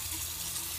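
Water splashes and trickles steadily from a tap as a clay face mask is rinsed off. The sound is a soft, hissing wash close by with no speech.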